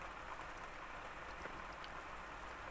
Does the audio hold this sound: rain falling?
yes